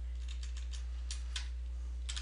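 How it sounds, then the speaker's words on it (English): Keys tapped while typing HTML code on a computer keyboard, a few soft separate clicks and short bursts over a steady low hum, fairly quiet and close. "Make sure I type that right."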